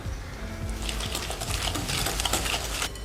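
An egg being mixed into apple cake batter, heard as a steady close whirring and churning with a rapid rhythmic texture throughout, with no voices.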